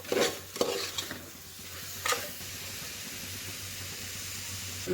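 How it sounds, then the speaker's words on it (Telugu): Chicken frying in a pan with turmeric, chilli powder, coriander powder and salt, a soft steady sizzle broken by a few scraping stirs of a spoon against the pan, close and fairly quiet. "పసుపు పొడి, కారం, ధనియాల పొడి, ఉప్పు అన్నీ వేసి కలుపుకోవాలి, వేయించుకోవాలి."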